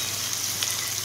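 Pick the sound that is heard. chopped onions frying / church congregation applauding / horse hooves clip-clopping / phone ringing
chopped onions frying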